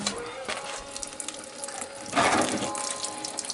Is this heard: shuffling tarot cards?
no